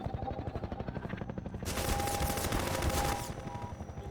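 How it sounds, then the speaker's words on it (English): Helicopter gunfire in the video game Half-Life 2 Episode 2, a rapid burst of machine-gun shots over a steady rotor drone, growing louder and denser partway through before easing off. "The helicopter shoots me a little bit"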